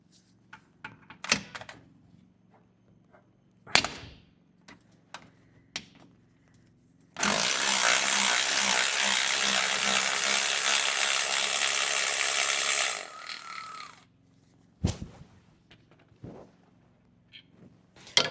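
A power tool spins out the lower alternator bolt on a Jeep Cherokee XJ in one loud, continuous whir lasting about six seconds. Sparse clicks and clanks of handling come before and after it.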